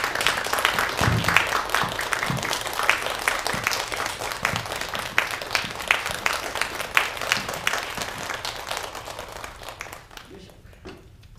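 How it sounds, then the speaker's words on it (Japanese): Steady, dense applause from an audience at a film festival guest talk, continuing for several seconds and gradually tapering off toward the end. "皆様大きな拍手でお出迎えください。"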